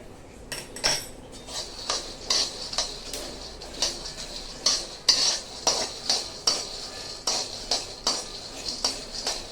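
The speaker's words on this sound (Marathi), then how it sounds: "दाणे आता मस्तपैकी दाणे भाजून घेऊ" Peanuts being dry-roasted in a pan while a spatula stirs them: a steady, rhythmic series of metallic scrapes and clinks, roughly one or two per second, close and moderately loud.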